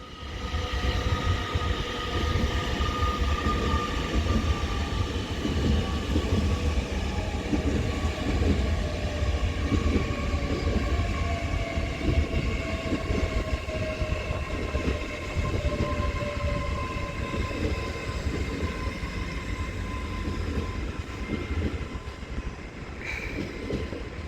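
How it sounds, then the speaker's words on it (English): A doubled-up Great Western Railway Class 800 unit pulls into Reading station with a loud, close, continuous rumble and a drawn-out electric whine that slowly falls in pitch as it slows. "This doubled up Great Western Railway 800 though departs for London Paddington from Oxford, doubled up unit, and then arriving in over here"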